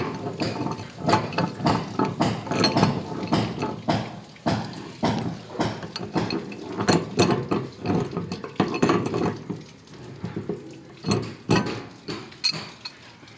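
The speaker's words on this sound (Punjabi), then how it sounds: "ਪਾਣੀ ਦਾ ਫਲੋ ਅੱਗੇ ਵੈਰੀ ਸਲੋ ਸੀ, ਹੁਣ ਵੈਰੀ ਫਾਸਟ ਹੋ ਗਿਆ।" Water rushing fast from a pipe after a gas geyser has been removed during plumbing work, a loud, steady, close gush with clattering, rattling metallic noise throughout.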